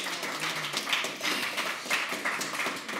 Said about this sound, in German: Bitte Applaus für die Kandidatin.